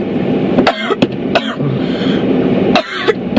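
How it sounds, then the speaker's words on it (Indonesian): A person coughing repeatedly nearby, several harsh bursts spaced unevenly over background road noise, with no speech. "Kamu udah tadi batuk terus."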